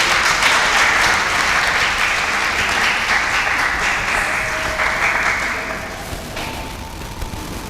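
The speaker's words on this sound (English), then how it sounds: "Please let's make the applause loud and our women, the women, clap for your fellow women." Audience applause at a women's empowerment business summit: dense, loud clapping from a large crowd fills the room steadily, then eases slightly toward the end.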